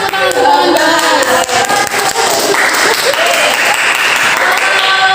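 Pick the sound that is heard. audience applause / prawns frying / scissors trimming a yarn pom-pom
audience applause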